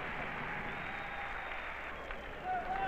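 Capacity crowd applauding at a 1981 University of Tennessee basketball game in Stokely Center, a steady dense wash of clapping and cheering heard from within the arena, continuous and fairly loud throughout.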